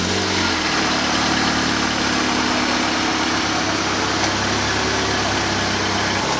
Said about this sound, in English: I'm gonna turn it on for you because it is a 4-cylinder, just so you can hear how loud it is.